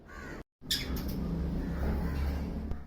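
An Australian Cinnamon lovebird gives a series of sharp chirps and squawks, fairly close, after a brief dropout near the start.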